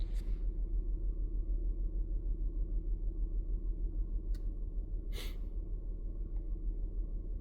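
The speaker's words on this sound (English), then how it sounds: "Car's running smooth." Steady low idle of a Chrysler Town and Country minivan engine with an injector misfire, a smooth continuous rumble throughout with a couple of brief faint clicks; no talking.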